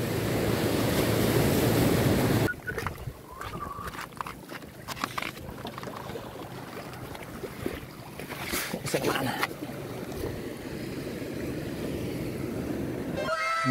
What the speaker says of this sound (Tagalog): Tingnan naman kayo guys ang alon, no?